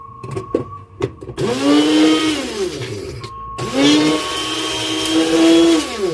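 Electric grinder chewing through food in two long motor bursts, each with a rising and falling pitch as the load shifts, loud and close, after a few short clicks and taps.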